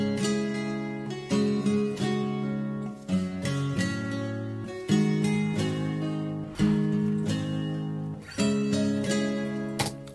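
Guitar melody played back in FL Studio 20, a main melody line for a track; plucked chords and notes ring out in clear phrases with decaying sustain, moderately quiet and without talking.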